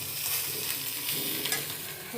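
Mixed vegetables including brinjal, potato, papaya, cauliflower and radish frying and being stirred in a pan, a steady close sizzle with scraping stir strokes, no talk.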